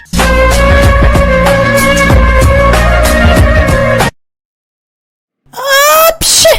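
Several loud sneezes in quick succession, followed by a short silence and then a squeaky, high-pitched voice or cartoonish yelp.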